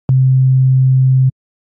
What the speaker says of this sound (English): let's have a listen to each of these different waves. Let's start with the sine wave.